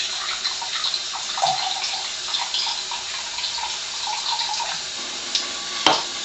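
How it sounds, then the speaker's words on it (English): Water poured from a water ionizer's spout, the second pour of a testing session, makes a steady trickling splash that runs continuously at moderate level, with one sharper clink near the end. "I'm going to go ahead and pour this at the second step"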